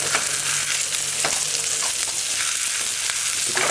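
A hamburger patty fries on a stovetop, giving a steady, loud, close sizzle with a dense crackle throughout and a few faint clicks of a fork, with no talking.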